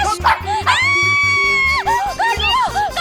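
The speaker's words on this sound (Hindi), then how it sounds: "दूर कर, तुम्हारे डॉगी को दूर करो" A dog barks and yips repeatedly at a street protest, sharp and close, with excited voices shouting and a crowd noise underneath.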